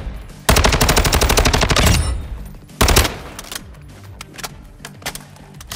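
An STB 556 rifle fires in Modern Warfare II, loud close rapid automatic bursts, a long burst of about a dozen rounds and then a shorter one, followed by faint distant scattered shots.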